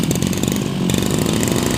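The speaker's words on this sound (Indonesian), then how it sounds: "turunkan cok ke bawah mode run dan tarik tali starter sampai mesin hidup." A petrol brush cutter is just pull-started, its small two-stroke engine running loud and close with a rough, buzzing idle and a brief dip in the middle, with no talk.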